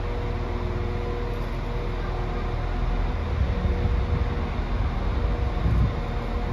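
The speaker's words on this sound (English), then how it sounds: "so there's a train coming in here." A train pulls into York station, a steady low rumble and rail noise that swells slightly toward the end, with no talk over it.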